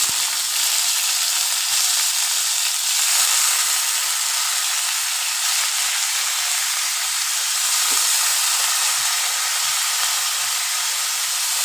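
Banana stem (thor), squeezed of its water, frying in a kadai wok for thor paturi gives a steady, loud hiss and sizzle that holds evenly from start to end, with no voices.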